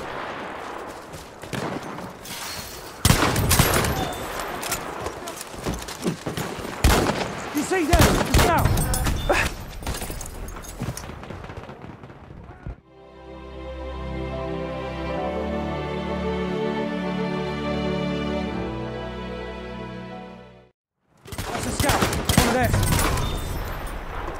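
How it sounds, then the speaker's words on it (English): Gunfire from an enemy machine gun in a Battlefield Conquest match, loud dense bursts of shots and explosions mixed with voices, interrupted midway by a long stretch of music before the fighting noise returns. "Enemy machine gun over there!"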